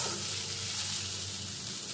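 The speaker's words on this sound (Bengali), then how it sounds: "আলু ও পেঁয়াজটা বেশ ভাজা ভাজা হয়ে গেছে।" Potatoes and onions fry in a pan with a steady, loud hissing sizzle that continues evenly without pause.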